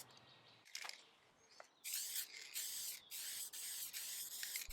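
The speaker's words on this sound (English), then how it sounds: "I wanted to preserve this label, so I sprayed it with clear lacquer" Aerosol can spraying clear lacquer onto the paper label of a 1936 Art Deco drinks cabinet being restored: several loud close hissing bursts in the second half, separated by short pauses, after a quieter stretch with faint clicks.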